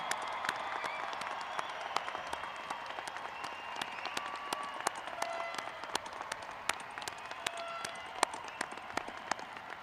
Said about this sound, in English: I ask everyone to join me in a giant round of applause for our newest bachelor's